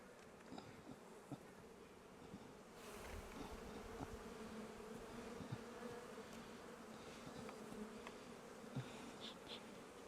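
Honey bees buzz steadily at a full brood box of a hive on the Mid North Coast, a dense, continuous hum that swells and stays loud throughout, with scattered individual insects passing close.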